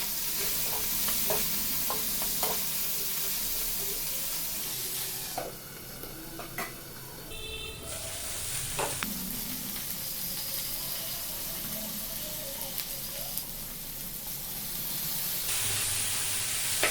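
Capsicum, onion, tomato, ginger and garlic sizzle in a hot pan with chicken, a continuous frying hiss broken by clinks and scrapes of a stirring spoon, loud and close, with a brief quieter stretch midway.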